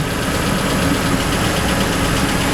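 A Mitsubishi Pajero 3 with a 3.0 GDI engine idles loud and close, a dense steady mechanical rumble and hum that holds nearly level throughout, with no voices.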